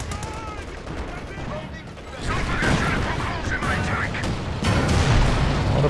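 Anti-tank guns firing in Company of Heroes 2, a dense barrage of booming cannon shots and gunfire layered over continuous battle noise, growing louder and heavier partway through and again near the end.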